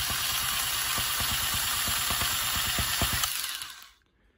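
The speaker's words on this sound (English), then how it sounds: "Here's what it looks like when I'm cut and sewing into the fabric with my rug gun." An electric tufting rug gun punches yarn into fabric with a loud, close, rapid mechanical buzz and regular clicking pulses, then stops abruptly near the end, with no talking.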